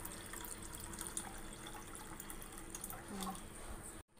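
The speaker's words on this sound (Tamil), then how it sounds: "ஜவ்வரிசிக்கும் சேமியாவுக்கும் தேவையான தண்ணி நான் ஊற்றிக்கிறேன்" Water pours steadily into a cooking pot for sago and vermicelli payasam, a continuous close splashing rush for a few seconds that cuts off abruptly at the end.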